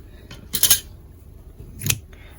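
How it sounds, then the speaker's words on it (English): Scissors snip through lace for a face mask in two crisp, close cuts about a second apart against quiet room tone. "I'm going to cut this out."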